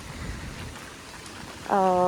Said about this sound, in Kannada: ನೋಡಿ ಫುಲ್ ಮಳೆ